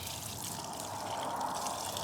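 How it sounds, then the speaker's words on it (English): Water trickles and pours steadily onto the soil around a hosta plant before it is divided, a faint continuous splashing outdoors. "a couple of hours before, water it really well"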